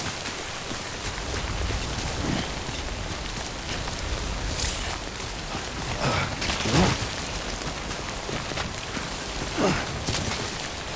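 Rain falling in the Death Stranding game, a steady hiss of dense raindrops with a few louder gusty swells, moderately loud and constant with no talk.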